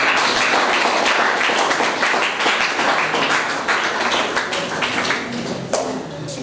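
An audience applauds to welcome a school principal at a voluntary service organisation's event, a dense wash of many hands clapping steadily, loud and continuous, tapering slightly toward the end.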